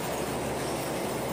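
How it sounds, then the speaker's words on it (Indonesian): Local train passing over a curved railway bridge: a dense, continuous rumble and roar of wheels at steady loudness, heard close throughout. "di atas itu kereta api, nggak tahu kereta api apa ya"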